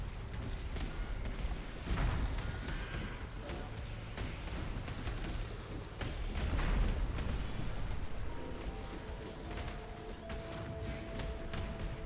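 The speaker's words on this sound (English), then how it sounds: "Yeah, look at the explosions," Dense run of booming explosions in the action game Path of Exile, rumbling continuously with heavier bursts near the start and middle, layered over busy combat noise.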